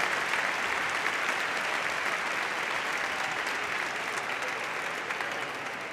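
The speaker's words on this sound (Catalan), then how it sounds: "Un fort aplaudiment per aquests 34 graduats i graduades en llengües aplicades." Sustained, dense applause from a large audience at a university graduation ceremony for applied-languages graduates, a steady roar of many hands clapping that fades slightly toward the end.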